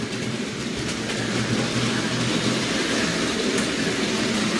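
A Hornby OO gauge model train, an R2249 8F locomotive prone to derailing, runs along its track with a steady close rumbling clatter of wheels over rail joints.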